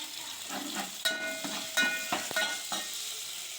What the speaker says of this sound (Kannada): ಎಲ್ಲ ನೀಟಾಗಿ ಫ್ರೈ ಮಾಡ್ಕೋಬೇಕು